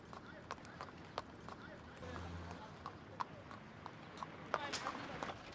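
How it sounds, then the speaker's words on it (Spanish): Hooves of a horse pulling a cart clip-clop in a steady, fairly quick rhythm at moderate distance, faint and mixed with a broad background wash and some speech. "Viajó con un carro tirado por un caballo"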